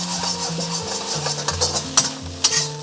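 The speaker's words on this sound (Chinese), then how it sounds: "给它炒得松散一点" Beaten eggs stir-fry in hot oil in a heated iron wok, with a steady sizzle under repeated scraping strokes of a spatula. Sharper scrapes ring out near the end.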